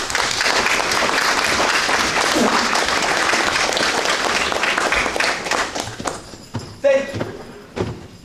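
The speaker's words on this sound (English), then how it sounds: "I would ask we all give a big round of applause to the SHS NJROTC Booster Club" Audience applause in a hall for a high school NJROTC booster club at an orientation graduation, dense and loud clapping that thins out and fades to scattered claps near the end.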